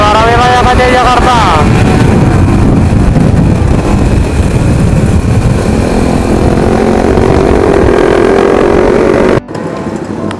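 Engines of a group of motorcycles on a night ride roar loudly nearby, revving and droning with wind rush, and voices are heard amid the noise before a sudden cutoff near the end.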